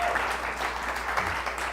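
Church congregation applauding steadily, a dense, continuous wash of clapping from a sizable audience, fairly close and uniform in level throughout.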